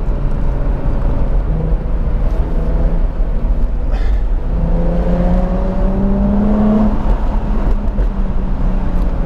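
A Jaguar F-Type convertible drives with the roof down on a mountain pass road, giving a steady loud wind roar with a low engine drone whose pitch rises midway.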